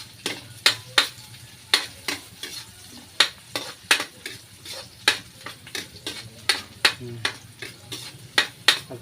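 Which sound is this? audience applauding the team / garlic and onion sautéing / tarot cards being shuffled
garlic and onion sautéing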